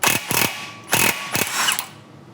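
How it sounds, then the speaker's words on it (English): An impact gun fitted with an 18mm socket hammers at the nut on the outer tie rod end of a 2004 Silverado/Sierra truck, firing four loud, close rattling bursts in quick succession before falling quiet. "we're gonna just try and use the impact gun and an 18mm socket to take this nut off of the outer tie rod end"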